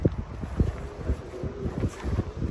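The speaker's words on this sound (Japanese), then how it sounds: "風が強いね、今日すごい。" Strong gusts of wind at the Jeju racecourse on a sunny day, buffeting the microphone in uneven bursts and low rumbling thumps, with no voices.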